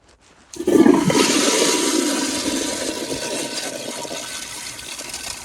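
A 2015 Kohler Highcrest toilet flushes after a brief quiet start, with a sudden loud rush of water that settles into a steady, gradually fading swirl and drain.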